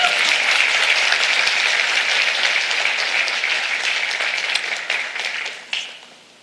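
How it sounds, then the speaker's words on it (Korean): Dense audience applause at a Democratic Party lecture event in Korea, steady and loud for several seconds, then thinning into scattered claps as it fades. "박수 쳐주세요"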